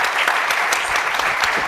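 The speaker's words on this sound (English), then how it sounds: "If we could provide them with a warm round of applause." A warm round of applause for a panel at a clean energy event, dense and close clapping from a seated audience throughout a short burst.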